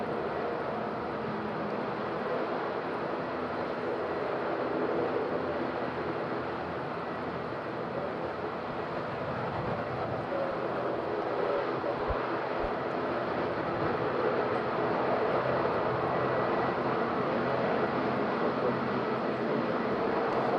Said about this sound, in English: So Transavia from Amsterdam Schiphol